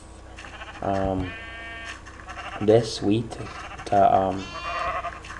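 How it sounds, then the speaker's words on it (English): Sheep bleat repeatedly in the video game Minecraft, several wavering baa calls spaced across the stretch, close and clear, with a person speaking briefly among them. "I have a whole bunch of sheep"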